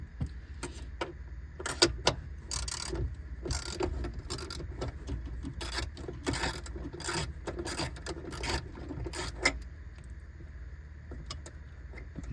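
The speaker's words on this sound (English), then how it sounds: "to take that off, you just need your deep socket" A 10mm deep socket turns to loosen the battery hold-down on a Lexus HS250h, giving faint, close metallic clicks and rattles in irregular bursts against a low background hum.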